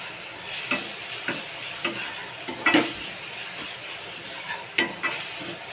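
Onion and tomato fry with kokum in a pan under a soft continuous sizzle, broken by repeated clicks and taps as a spoon stirs the mixture.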